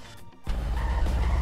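Renault Logan in the game Amazing Online, engine rumble suddenly starting up after a short quiet moment and holding a steady, close drone, with a slight tire-scrub edge.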